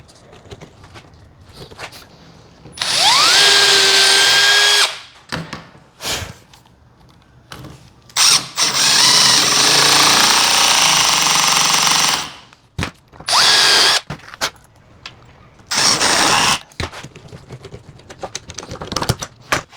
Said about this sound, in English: So I'm gonna have to pre-drill, see if I can find the right bit for that.